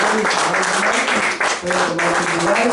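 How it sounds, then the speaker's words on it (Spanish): A church congregation at a Spanish-language service claps as an offering of applause, a dense, steady patter that fills the space while voices carry on over it. "Le damos una ofrenda de palmas a los que"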